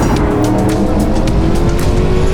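An IROC race car laps the Laguna Seca circuit, its engine a loud, steady close-up roar held for the whole stretch, with faint tire noise and no voices.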